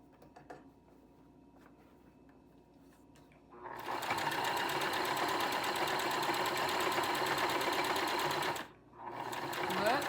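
A modest home sewing machine stitches flannel pants with cotton thread. It starts after a few quiet seconds, then runs as a loud, steady, close whir, pauses briefly near the end and starts again.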